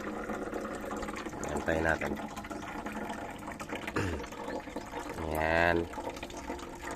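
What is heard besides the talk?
water flowing in Dutch bucket system drip test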